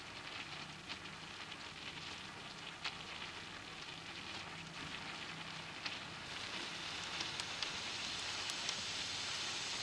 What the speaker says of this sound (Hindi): डीप फ्राई करना है हमने समोसों को